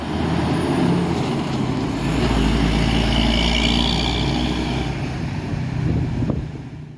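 A Yuanda Prima bus bound for Palembang idles at a bus terminal, its steady low engine rumble loud and continuous with windy, broadband noise over it.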